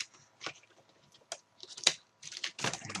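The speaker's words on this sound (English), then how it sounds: "just lift up and turn the keyboard over" A laptop keyboard is lifted and flipped over during a power jack repair, giving a scatter of light plastic clicks, taps and rattles, close and sparse, with short quiet gaps between them.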